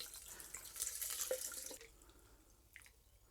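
Gin Collins cocktail strained from a shaker into a glass, a close, bright pouring splash lasting under two seconds before fading to near silence, with a faint drip toward the end.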